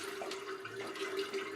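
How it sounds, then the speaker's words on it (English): Water pours and splashes as it is emptied out of a metal tamale steamer pot in a home kitchen, a steady close running-liquid sound with no talking. "we're gonna empty this water because if we start some more, we're gonna have to put more hot water"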